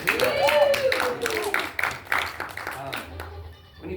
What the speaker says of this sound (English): Let's have a round of applause for Sarah.